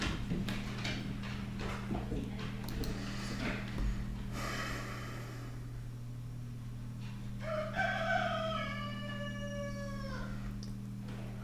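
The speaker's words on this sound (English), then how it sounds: "a singing display by Jag the Cockerel" Jag the cockerel crows close by, one drawn-out, wavering cock-a-doodle-doo rising out of a steady background hum after some earlier soft shuffling and clatter.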